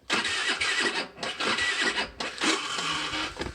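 Starter motor on a high-mileage Zipp Vapor 4-stroke scooter with a weak battery in freezing cold, cranking in three loud, close bursts with brief pauses, the engine failing to catch.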